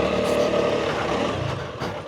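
Honda CRF300L dual-sport motorcycle, stock apart from a skid plate, climbing a rough dirt slope in second gear, its engine roaring steadily and loud throughout with a slight fade toward the end.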